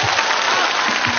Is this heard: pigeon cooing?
no